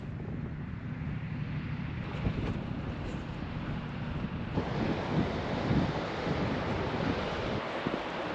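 Waves wash over a stony beach on the Scottish coast in a steady, broad rush, heavily buffeted by wind against the microphone.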